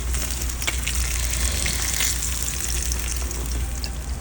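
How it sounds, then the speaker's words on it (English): Floured short ribs brown in hot oil with a constant dense sizzle and crackle, close and even throughout, no voices. "you're going to brown them on all sides in some hot oil"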